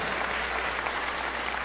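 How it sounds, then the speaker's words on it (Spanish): Steady applause from a theatre audience at an anniversary performance by a theatre and arts movement, a dense, even wash of clapping with no pauses. "un aplauso"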